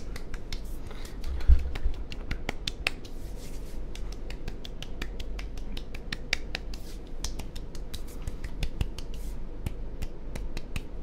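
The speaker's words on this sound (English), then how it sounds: "You're clapping right in my ears." Fast, aggressive ASMR claps made right beside the microphone, a rapid run of sharp, close, loud transients that repeat steadily with no talking.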